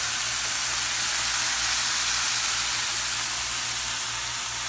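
Garlic sizzling in a pan while shrimp Alfredo with spaghetti squash is being made, a steady close hiss of frying that holds level throughout with no other sounds.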